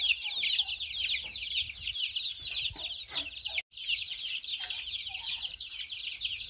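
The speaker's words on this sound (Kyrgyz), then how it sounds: "Жөжөлөр." Chicks cheep in a dense, continuous high chorus in a village yard, with scattered clucks from adult chickens beneath and a brief cut partway through.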